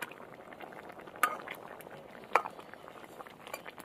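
Crab curry gravy bubbling in a pot, a soft continuous simmer with a couple of sharper metallic clinks from a utensil against the vessel.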